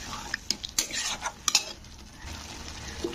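Spice masala stirred in a pan for a catfish and potato curry, a spatula scraping and clinking against the metal in quick bursts over a soft sizzle, close by with no talking.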